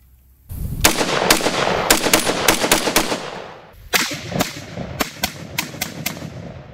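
A Luxembourg Contract FN49 battle rifle chambered in 30-06 fires two quick strings of loud, sharp shots outdoors, about six cracks, a short pause, then about six more, with no talk.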